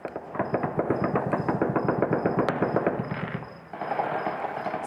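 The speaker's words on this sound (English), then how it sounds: "Celebratory gunfire here ringing out as Kabul, across Kabul, I should say, before dawn" Rapid bursts of celebratory gunfire across Kabul before dawn crackling in quick, uneven volleys, somewhat distant and echoing, with a brief pause before more shots continue.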